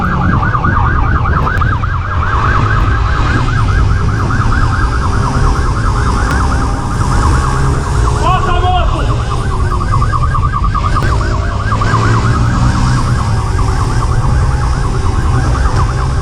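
A police siren wails continuously during a pursuit, loud and close with rapid cycling tones over the roar of a car engine and road noise.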